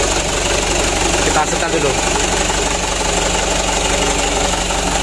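A Mitsubishi Canter truck diesel engine runs at a steady idle with a continuous rough drone after plunger adjustment, while someone talks over it at close range.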